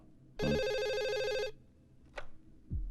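A single electronic telephone ring sounds clearly for about a second, followed by a short click and a soft thump in a quiet room.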